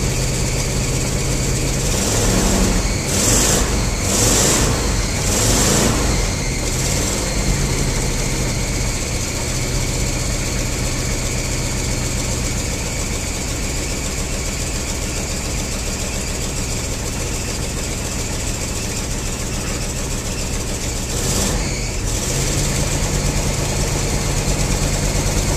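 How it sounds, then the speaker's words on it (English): A 1974 Ford F250 truck engine idles steadily after a cold start, a low, continuous rumble close by, with a few brief louder surges early on and again later. "Last cold start for this truck for the season."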